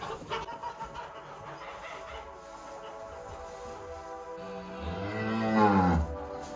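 A Polish Red-backed (Białogrzbiet) cow in a herd of 100 lets out a long, loud moo near the end, rising and falling, after several seconds of quieter barn noise.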